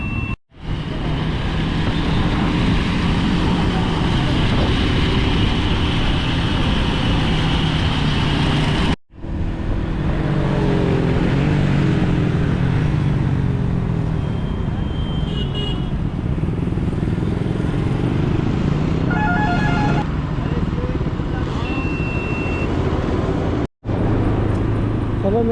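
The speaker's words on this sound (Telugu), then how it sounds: "సో ఇందులో 6 బైక్స్ ఉన్నాయి. 1 జావా, 1 R15 అండ్ 4 NS." A group ride of six motorcycles, a Jawa, a Yamaha R15 and four Bajaj NS200s, makes continuous loud engine drone and wind rush on the road, unbroken except for two brief cuts.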